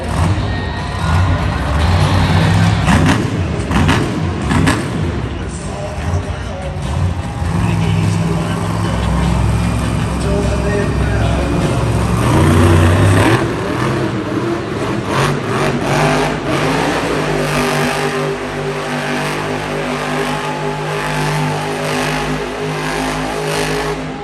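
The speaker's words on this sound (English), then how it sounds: "Using the black and green wrecking machine, it's Weston Anderson driving Gravedigger." The Grave Digger monster truck roars and revs at a Monster Jam show in Hartford, Connecticut, with loud surging engine bursts over arena crowd noise while an announcer talks over it.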